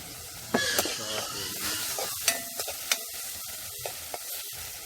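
Sweet pepper and scallion sizzle in a hot pan for chicken wings at an outdoor cook, with a constant frying hiss broken by several clanks of a utensil stirring against the pan, up close.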